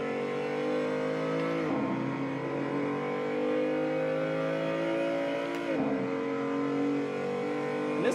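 A race car engine in a PlayStation racing game revs high and steady through a corner, its tone dipping briefly twice as if lifting off or shifting. The sound is continuous and loud, with no talking.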